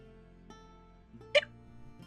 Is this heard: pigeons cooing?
no